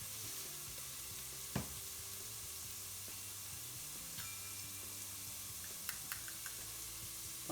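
Chicken pieces pre-cooking for an Indian restaurant-style curry sizzle in a pan with a constant soft hiss, broken by a few light clicks and clinks of a utensil.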